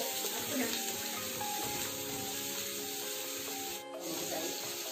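Onions frying with salt and turmeric in a pan for chicken liver fry, a continuous close sizzle with scraping and rubbing as a spoon keeps stirring, no voices.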